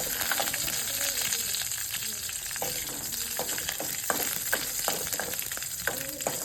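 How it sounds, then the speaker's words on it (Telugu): Tempering spices and a torn dried red chilli sizzle in hot oil in a pan, a steady crackling fizz with small pops and stirring clicks throughout and no talk. "ఇందులో కొంచెం పోపు దినుసులు, ఒక ఎండుమిరపకాయ తుంచి వేసుకుంటున్నా"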